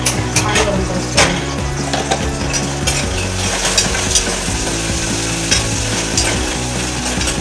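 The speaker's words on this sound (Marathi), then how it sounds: "तांदूळ चांगला भाजून घेणार आहे" Rice is dry-roasted in a home kitchen pan, giving a loud, close, continuous rattling sizzle with rhythmic scraping of a spoon as the grains are stirred and a low hum underneath.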